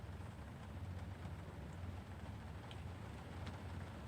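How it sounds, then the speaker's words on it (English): Heavy rain pouring down in Indiana, a steady, dense wash of noise with a low rumble, constant and close with no voices. "I'm here in Indiana and it's pouring down rain."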